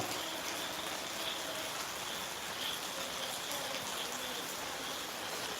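Heavy rain falls in a dense, even hiss that holds steady and fairly loud throughout, with no pauses and no voices.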